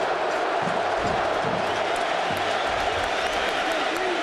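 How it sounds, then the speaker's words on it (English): Michigan fans in a packed stadium at the 2007 Rose Bowl college football game, a loud, sustained roar of cheering with scattered whoops, steady from start to finish. "First time the Michigan crowd has come alive in the entire game."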